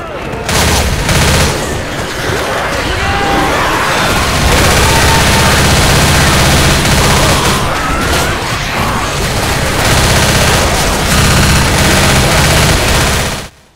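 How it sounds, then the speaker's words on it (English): Continuous heavy gunfire from shooting zombies in Left 4 Dead, loud and sustained for the whole stretch as dense rapid bursts, with faint game voices underneath. "shooting zombies in the crotch works just fine as well"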